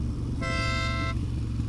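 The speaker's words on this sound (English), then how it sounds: "It's this Stiebel air horn, which it was, again, so much louder" A Stebel air horn fitted to a Harley Sportster blasts once for about three-quarters of a second, loud and close, a bright steady multi-tone honk over the constant rumble of the motorcycle's engine while cruising.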